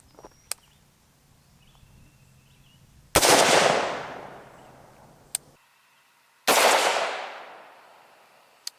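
AR-15 rifle fired twice outdoors, each shot a sharp loud crack with a long decaying echo, a few faint clicks and small knocks in between.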